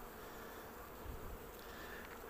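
Honeybees at a hive in a beekeeper's home apiary give off a steady, faint buzz that holds through the whole short stretch with no talking.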